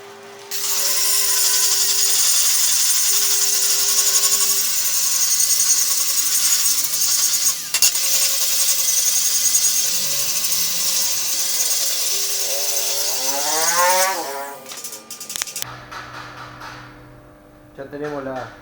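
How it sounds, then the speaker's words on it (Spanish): An angle grinder with a flap disc cleans rust off a steel plow disc, making a loud, sustained high-pitched whine and grinding rasp. Near the end the motor winds down, followed by quieter handling noises and some speech. "vamos a tratar de limpiarlo un poco con un disco flat"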